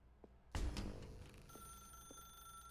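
A telephone rings in The Stanley Parable video game, a sudden bright electronic ring followed by a sustained high ringing tone over a low room hum, fairly quiet overall.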